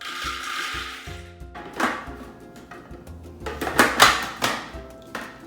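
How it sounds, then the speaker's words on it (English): A food processor whirs as roasted, cooled cashews are added for cashew butter, with a motor drone at the start followed by loud thuds and clattering bursts of nuts tumbling against the bowl, close and without talk. "we're just gonna add them into our food processor"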